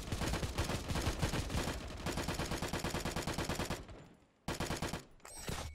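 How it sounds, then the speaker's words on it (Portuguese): Sustained rapid automatic gunfire in the shooter game Tip Of The Spear, loud and continuous, then a short pause and another burst, with no talking. "Não dá pra ter muita noção de distância de onde o cara tá atirando."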